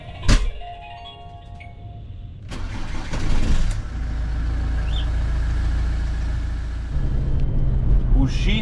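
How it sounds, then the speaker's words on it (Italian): A camper van engine cranks and catches after a couple of seconds, then settles into a steady idle that rises slightly near the end, heard close and loud with a few clicks beforehand. "Messa in moto."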